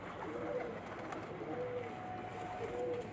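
A Lal Pari pigeon on a rooftop gives soft, repeated coos at low volume over steady background noise, the calls recurring every second or so.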